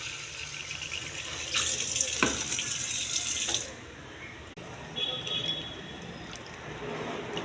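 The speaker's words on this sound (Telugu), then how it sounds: "మొత్తం ట్యాప్ వాటర్ వేసి శుభ్రంగా కడగాలి." Grapes being washed under a running kitchen tap, water splashing loudly into a sink with a few clinks, then dropping to a softer trickle before rising again.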